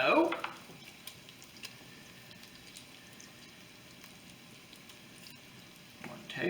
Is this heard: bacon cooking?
yes